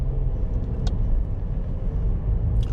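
A 2010 Toyota Corolla S engine gives a steady, loud, close low rumble throughout, holding an even drone with no distinct rise in revs.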